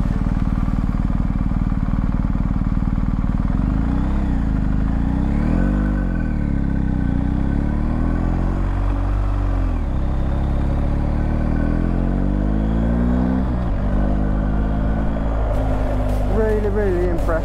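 BMW 1250 GS Adventure Rally 2021 motorcycle on a test ride, its boxer engine loud and close, revving up and down through repeated accelerations under constant wind noise.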